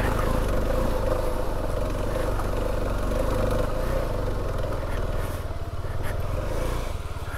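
A vehicle engine labouring hard and steadily while trying to push over a rock, a loud continuous drone with a slight drop in strain toward the end.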